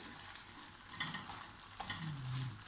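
Msemen flatbread fries in a pan with a steady high sizzle and a few soft scraping stirs, close and continuous with no talk.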